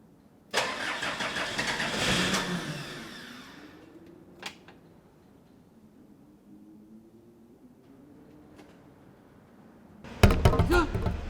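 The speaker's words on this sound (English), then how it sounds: "So maybe if I keep trying, I'll get the air out of the pipes and the fuel will start coming more into the engine." A cold camper van engine cranks hard with a loud burst of starter noise, fades into a faint uneven idle with rising and falling tones, then cranks loudly again at the end.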